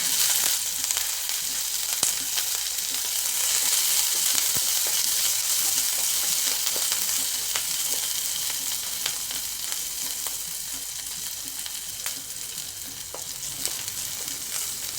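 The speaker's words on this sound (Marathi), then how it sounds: "लसूण छान परतलेलं आहे त्यामध्ये दोन हिरवी मिरची घातली कापून" Garlic and chopped green chilies fry in a spoonful of oil, giving a dense, even sizzle close to the pan. Occasional faint stirring clicks sound over fifteen seconds, with no voices.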